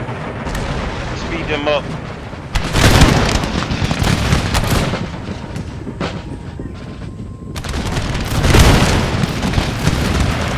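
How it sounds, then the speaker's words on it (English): Artillery fire and explosions in the video game Empire Total War: repeated heavy booms and cannon blasts roll through a busy battle, with a large burst near the start, another around the middle and one more near the end, under occasional talk. "We got artillery coming in."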